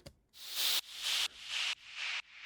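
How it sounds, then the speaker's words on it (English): Bursts of bright hissing white noise, each starting with a sharp attack and cutting off abruptly, repeat in a steady pulse through a delay effect, slightly quieter each time like echoes, in an electronic dubstep track. "it's just this like white noise with a attack to it"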